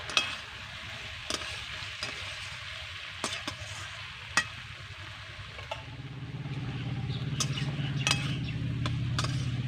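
Potato and ridge gourd frying in a pan, stirred with a spoon. Sharp scraping clinks come at intervals over a faint sizzle that grows louder and fuller toward the end, with no talk.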